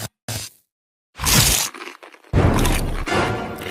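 Crisp crunching of a Potabi potato snack, loud close bites and snaps in separate bursts, with short pauses of near silence between them.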